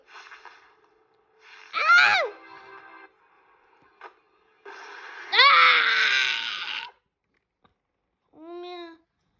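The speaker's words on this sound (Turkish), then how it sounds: "Bir ben bağırıyorum 13 saniye." A person screams in short, loud, strained bursts with rising and falling pitch, separated by quiet gaps and a few smaller vocal sounds.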